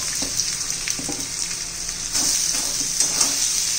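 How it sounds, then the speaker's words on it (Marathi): Thinly sliced potato and onion fry in hot oil with coconut for tomato poha, a loud, close, continuous sizzle broken by occasional stirring scrapes. "आता कांद्याबरोबर बटाटा पण घालून घ्यायचा आहे"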